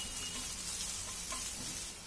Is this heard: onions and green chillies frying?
yes